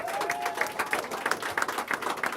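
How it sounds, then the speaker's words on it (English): Audience applause after a speech by Minister Louis Farrakhan, a steady wash of many hands clapping, moderately distant, with a brief whistle or voice at the start. "Let's give the Honorable Minister Louis Farrakhan a warm round of applause again."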